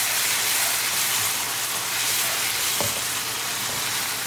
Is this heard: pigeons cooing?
no